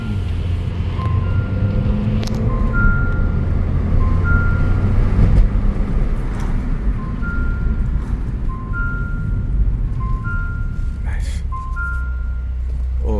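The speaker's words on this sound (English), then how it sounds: "Let's turn the music off, and I want to hear the exhaust." A turbocharged 2018 Fiat 500 Sport drives on a road in Fort Lauderdale, its exhaust a low steady drone under road and wind noise, with repeated two-tone electronic beeps from the car and occasional clicks.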